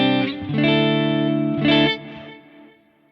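An electric guitar runs through a Tone X1 amp modeler, a Lekato Loop Stage, and delay and reverb, playing a few distorted, sustained chords that fade away into a reverb tail, with no talking.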